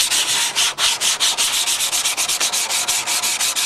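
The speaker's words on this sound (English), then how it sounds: "it's always good to see what kind of sanding blocks are going to work" A sanding block rubs back and forth along the curved edges of a workpiece, making quick, even rasping strokes in a steady rhythm, close and loud with no talking.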